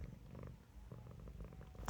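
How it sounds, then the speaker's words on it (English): A house cat purrs softly nearby, a low rumbling rhythm of faint repeated breaths, alone with no talk. "I'm so sorry if you can hear my cat."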